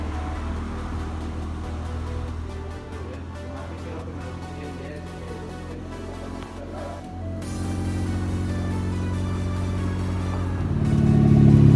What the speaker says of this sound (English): So Junie just pulled up to the shop, guys.